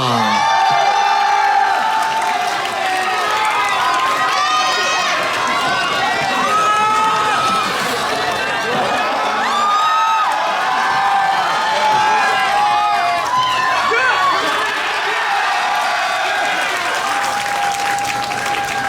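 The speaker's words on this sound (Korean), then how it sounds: "큰 박수와 환호로 맞이해 주시기 바랍니다" A large crowd at a military festival applauds and cheers loudly and steadily, with whoops and shouts rising throughout the sustained ovation.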